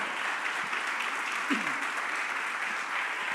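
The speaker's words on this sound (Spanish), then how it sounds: "Dale un aplauso fuerte a ese Dios que tenemos, por favor." A church congregation applauds at a service, a steady wash of many hands clapping together at moderate distance, sustained throughout with no one speaking over it.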